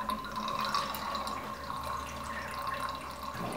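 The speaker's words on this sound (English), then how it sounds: "need a container to catch the water as it comes out." Water drains from a central heating radiator bleed point into a container, a steady trickling and dripping flow, quiet and close, continuous and alone.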